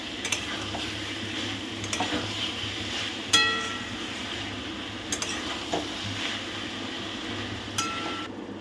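A spiced masala for a Bengali mutton curry fries in a pan on medium flame under steady stirring, with a continuous low sizzle broken by several sharp metallic clinks and scrapes of the spoon against the pan.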